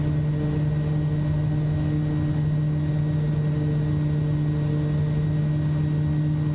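Turboprop engine of a Kodiak 100 aircraft held at takeoff power on the runway, a loud steady droning roar with a strong constant propeller hum, without any speech.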